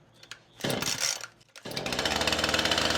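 A chainsaw with a HIPA carburetor, pulled on choke, fires and catches after a couple of loud bursts, then settles into a steady, buzzing idle close by.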